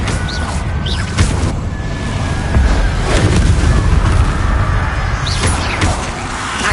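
Spell explosions from the Confringo fire curse in Hogwarts Legacy on PS5, a run of booming blasts and crashes over continuous game combat noise, loud and close with several impacts layered together.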